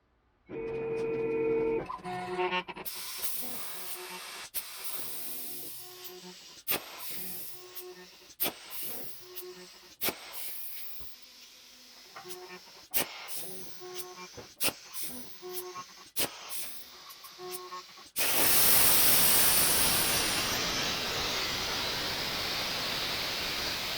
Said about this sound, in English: off to the plasma cutter